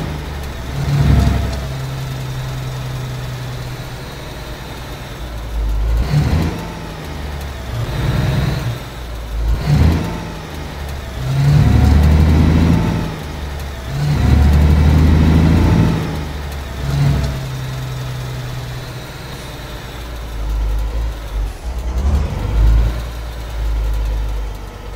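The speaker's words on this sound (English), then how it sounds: "We'll leave the engine running because we're going to be doing another job anyway." Truck engine in the Alaskan Truck Simulator game, a low steady rumble with repeated swells of revving and acceleration, loud and close with no talking.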